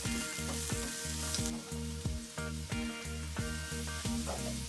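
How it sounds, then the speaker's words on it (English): Garlic and onion sizzle steadily in chicken fat in a hot frying pan, a constant crackling hiss accompanied by faint rhythmic music in the background. "With chicken fat left on the frying pan, saute garlic and onion until wilted."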